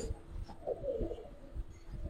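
Pigeons coo softly nearby in a domestic loft, low gurgling calls rising and falling over a faint background hum, with no talking.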